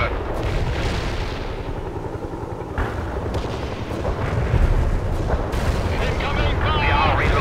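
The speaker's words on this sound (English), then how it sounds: "Firing artillery." Artillery fire in the real-time strategy game World in Conflict, heavy booming blasts and rumbling impacts mixed with gunfire in a dense, loud battle din, with radio-style voices partly over it.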